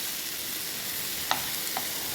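Soya chunks fry in a pan, a soft steady sizzle with a couple of faint stirring clicks.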